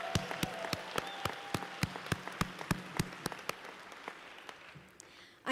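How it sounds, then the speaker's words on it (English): A large convention crowd of about 1,700 at a state party assembly applauds speakers, with steady sustained clapping that fades toward the end. "So can we just get a round of applause for Hannah and Terry?"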